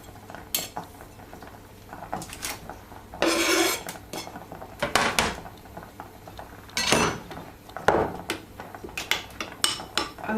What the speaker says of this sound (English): And then just stir it in.